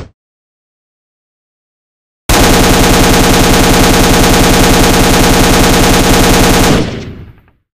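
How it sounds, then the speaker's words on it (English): Rapid AK-47 gunfire from the game Tower Defense Simulator: after about two seconds of silence, a loud, dense, continuous burst of automatic shots lasts around four and a half seconds, then stops abruptly with a short fading tail. "I shoot enemies with my AK-47. I do 5 damage with a fast fire rate."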